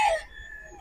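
A Sweater Boston bloodline broodstag rooster gives a short, loud, close call that trails off quickly, alone with no talk.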